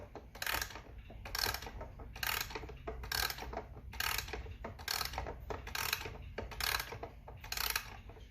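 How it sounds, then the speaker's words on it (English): A key winds the mainspring of a Waterbury gingerbread clock, giving repeated sharp ratcheting clicks at a steady rhythm of about one per second, close and crisp over a low background hum, with no talking. "I'm going to wind it up full for you."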